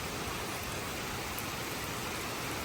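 Heavy rain falls in a dense, even hiss with no breaks, a fairly quiet and uniform wash of noise without voices.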